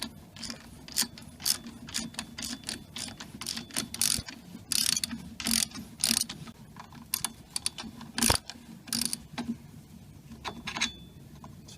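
Ratchet clicks in irregular bursts while loosening the brake caliper carrier bolts on a Toyota Aygo, close and fairly loud, with no voices.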